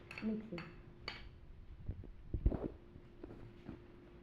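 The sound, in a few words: mixing snack ingredients in a bowl with a spoon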